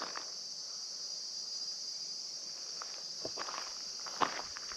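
Insects chirp in the hot Australian outback on a warm day, a steady, shrill high-pitched drone running unbroken throughout, with a few soft footsteps and rustles nearby.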